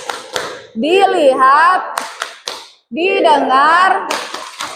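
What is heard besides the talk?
rhythmic 'tepuk fokus' focus-clapping pattern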